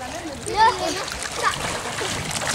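Water splashing as kids swim, brief sloshing splashes mixed with children's voices and talk close by.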